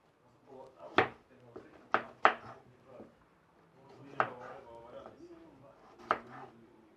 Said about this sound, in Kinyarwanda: Tubikatemo ikirayi, tugikatemo 4, ikinini turagikatamo inshuro 8.